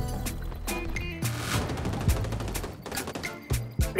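Gunfire in the shooter game XDefiant: rapid, close bursts of shots crackle in quick succession, with several sharp single cracks and short automatic volleys packed into a few seconds.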